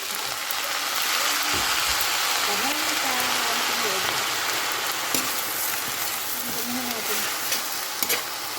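Food frying in a pan as soy sauce is added gives a loud, steady sizzle throughout, with a voice talking faintly underneath.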